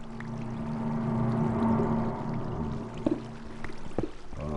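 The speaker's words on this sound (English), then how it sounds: "Oh, I can hear water." Water flows in Minecraft while strip mining underground at level 11, a faint, continuous trickling wash with a few soft clicks near the end.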